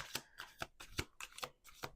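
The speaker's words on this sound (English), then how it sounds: "I just started shuffling the cards" A deck of playing cards being shuffled at a table, with crisp riffling bursts repeating in a steady rhythm of about seven quick flutters, close and clear with no talk.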